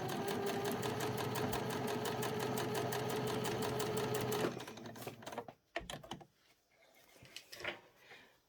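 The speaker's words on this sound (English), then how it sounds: "Just on the edge of the ribbon, let the machine do the work so you don't get puckers." Sewing machine running steadily, stitching ribbon trim along the edge of doll pajama legs and cuffs, a fast even mechanical whir for several seconds, then stopping with a few faint clicks and handling noises.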